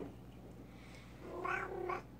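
Two short, soft cat meows in quick succession, close by, over a faint steady hum.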